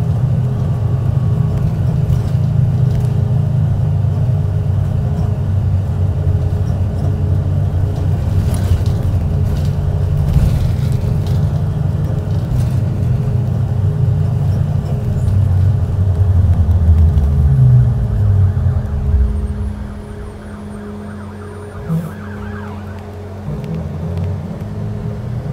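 A 2013 IC CE school bus, number 254 of Grand Prairie Transit, rumbles steadily from the inside on a ride, with the engine drone easing somewhat partway through before continuing.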